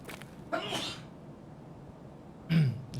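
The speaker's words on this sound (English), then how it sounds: "I also need to sneeze." A single sneeze from a gamer mid-stream, sharp and close to the microphone, preceded by a brief breathy burst and followed by quiet room noise.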